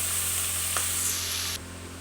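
Meat and pre-fried potatoes go into a hot pan for a Bengali curry, raising a loud broad hiss of sizzling that runs steadily, then drops sharply near the end, with a steady hum beneath and no speech.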